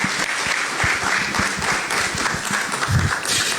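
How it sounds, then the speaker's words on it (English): An audience at a talk gives a full round of applause, dense and sustained clapping from a crowd, fairly loud and steady throughout. "Please, let's do better with a round of applause."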